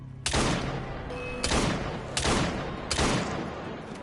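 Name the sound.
gunshots fired in the video game Assassin's Creed Syndicate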